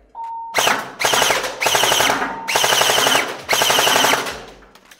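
An L16-A3 airsoft rifle rattles off four loud full-auto bursts, each lasting under a second, close by, with brief gaps between them.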